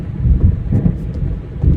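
Deep rolling thunder of an approaching storm in the Alan Wake video game, a low rumbling swell with soft rain hiss, steady and fairly loud without voices.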